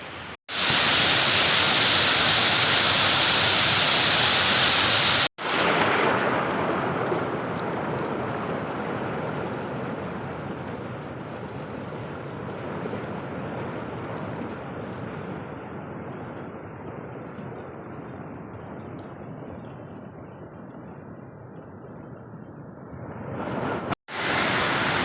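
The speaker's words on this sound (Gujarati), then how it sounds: "ડેમ ઓવરફ્લો થઈ ગયો એટલે ઉપરથી પાણી જાય છે" Water pours over an overflowing dam in a steady, powerful broadband roar, loud and close, briefly cutting out twice but otherwise continuous for the whole stretch with no voices.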